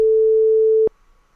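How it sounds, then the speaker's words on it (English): A Wwise sine wave test tone played in Unreal, a single steady pure electronic beep held for close to a second before cutting off abruptly, leaving near silence. "We're going to add a Wwise sine wave."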